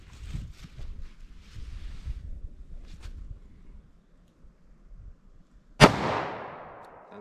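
A single sharp gunshot from a 2-inch barrel handgun cracks out near the end during a 9mm versus .38 Special ballistic test, loud and close with a ringing decay, after a stretch of faint outdoor wind and rustle.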